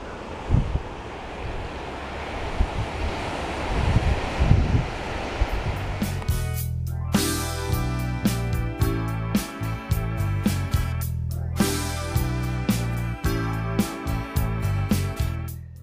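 Steady sea breeze rush and broadband surf noise by the shore fill the first half, then music takes over for the remainder, with the wind-and-wave wash fading beneath it.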